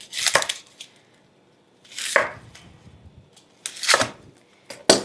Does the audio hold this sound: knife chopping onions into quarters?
yes